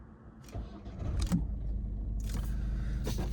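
A car engine cranks and catches after a few clicks and rattles, then settles into a steady low idle nearby.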